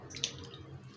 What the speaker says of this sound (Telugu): కొద్దిగా వాటర్ వేస్తూ